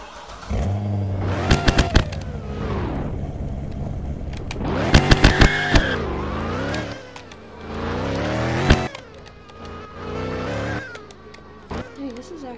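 A car engine in a driving video game, revving hard in repeated bursts with sharp gear shifts between them, loud and close throughout, with sustained high whines falling away between pulls.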